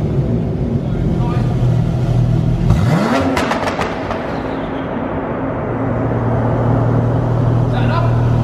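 A Porsche 911 Turbo S with a Quicksilver exhaust idles with a low, steady drone. Its pitch swoops up in a brief rev mid-clip, then settles back to a constant hum with a faint whir.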